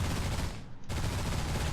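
Dense gunfire in the space shooter game Destination Sol, a continuous roar of rapid shots with a brief dip midway before the barrage resumes at full loudness.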